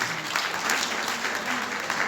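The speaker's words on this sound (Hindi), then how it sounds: "जरा एक बार ताली बजाएं सभी के लिए" A crowd at a Ram Katha gathering in the Raghunath temple, Bilaspur, claps for the organizing committee in a dense, even burst of applause that holds throughout.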